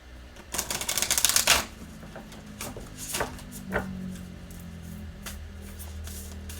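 Soft papery riffling of tarot cards for about a second, followed by a few scattered taps and shuffles in an otherwise quiet room.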